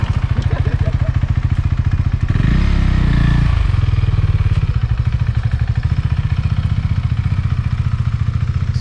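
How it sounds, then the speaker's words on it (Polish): A motorcycle engine idles loudly up close with a steady, rapid thumping beat, briefly swelling in a short rev before settling back to the same even idle. "ktoś ci zabiera motocykl!"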